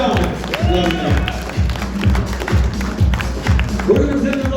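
Audience applause and cheering for Damon Feldman at a documentary premiere, a steady crowd roar with rhythmic low thumps running underneath throughout.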